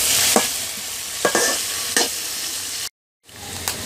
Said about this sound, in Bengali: এই দুটো ভালো করে আমি মিক্সড করে ফ্রাই করে নিচ্ছি।